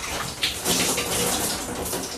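A shower runs as a steady, close hiss of spraying water, filling the whole brief stretch with a few splashy surges.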